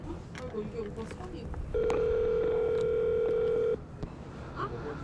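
A steady electronic phone tone sounds for about two seconds, with faint background noise and brief clicks around it.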